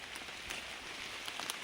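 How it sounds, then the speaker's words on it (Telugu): Rain beginning to fall outdoors in the Araku hills, a faint, steady patter of drops with a few slightly louder taps, no voices. "వర్షం అయితే ఇక స్టార్ట్ అయిందండి."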